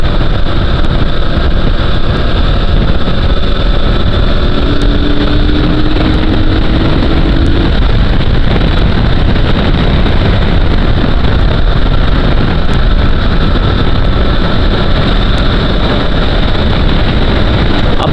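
KTM RC 200 BS6 motorcycle accelerating during a ride, a loud continuous engine drone mixed with heavy wind rush, with a rising tone sweeping up midway through.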